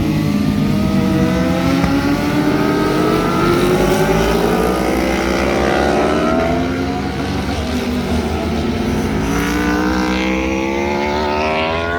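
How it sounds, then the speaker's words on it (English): Motorcycles at a track day sweep around a corner one after another, their engines loud and close with rising and falling pitch as they accelerate out of the bend, with no voices. "Look at these guys come around the corner."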